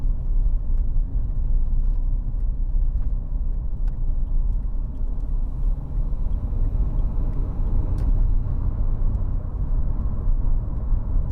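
A 2015 Dacia Duster 1.5 dCi Ambiance diesel with a 6-speed gearbox cruises toward the motorway, a steady loud cabin rumble of engine and road noise with no break.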